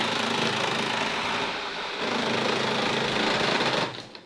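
A printer mechanism, jammed with a sheet of lavash, whirs and rattles steadily for about four seconds, close by, then winds down abruptly.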